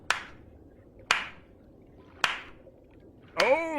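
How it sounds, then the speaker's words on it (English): Plankton's clap from The SpongeBob SquarePants Movie: three sharp, slow, evenly spaced single claps, followed by a springy wobbling sound effect, with no one talking. "Nothing beats Plankton's clap from the SpongeBob SquarePants movie."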